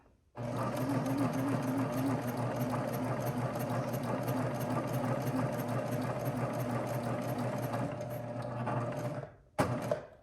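A sewing machine runs a steady, continuous stitch along the edge of a pocket on a lounge set garment, close and loud, then stops abruptly near the end before a brief final burst.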